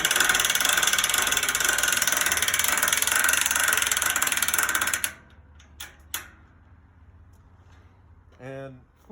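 A grill on a direct drive pulley system is lowered, giving a loud steady mechanical whirring and grinding for about five seconds that stops abruptly, followed by a few faint clicks and clanks.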